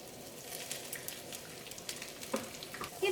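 Grated coconut frying in coconut oil in a pan for a prawn theeyal, a soft, continuous low sizzle with faint crackles and a few small pops near the end, fairly quiet and close, with no talking.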